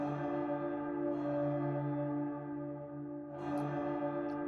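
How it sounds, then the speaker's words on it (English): A nighttime bell rings in the game Twisted Wonderland, a sustained tonal chime that fades slightly and then swells again with a brighter strike, heard alone and fairly soft. "Alas, the nighttime bell has rung."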